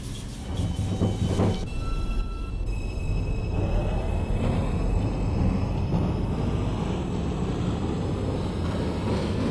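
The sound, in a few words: New York subway 5 train running, from the OpenBVE train simulator game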